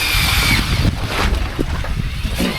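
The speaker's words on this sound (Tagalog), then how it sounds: "Hirap ang makina mo, sir." A labouring fishing boat engine rumbles low beneath gusty wind buffeting the microphone, with sea noise around it throughout.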